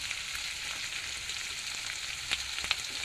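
Onions frying in oil for chilli chicken, a soft continuous sizzle with a couple of brief louder crackles near the end, heard alone without talk.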